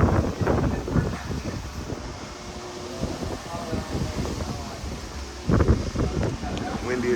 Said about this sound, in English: Windy as hell out here in the city today, man.